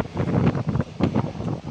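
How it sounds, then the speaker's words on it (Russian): Gusty wind on the Tereshkova seafront in Yevpatoria, in rainy weather, buffets the microphone in close, rumbling bursts, rising and falling over a couple of seconds with no one talking. "Ветер такой просто свищет"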